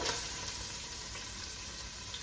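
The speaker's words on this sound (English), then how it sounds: "So I'm going to add my onions." Onions hitting hot oil in a pot for pot roast, giving a steady, close sizzle that holds evenly throughout with no voices.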